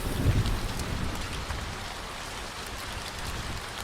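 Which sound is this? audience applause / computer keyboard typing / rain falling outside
rain falling outside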